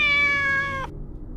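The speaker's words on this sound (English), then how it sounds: "Oh, so that's a cat." A single drawn-out cat meow from the video game Corpse Party: Book of Shadows, clear and close, ending abruptly.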